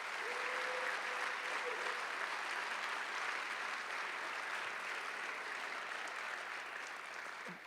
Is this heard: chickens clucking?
no